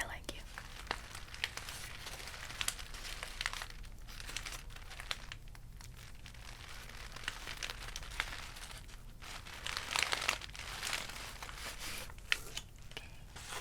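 Packaging crinkles and crackles close up during an ASMR unboxing, a continuous soft rustling with occasional sharper crunches.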